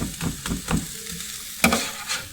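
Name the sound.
meat sizzling on a griddle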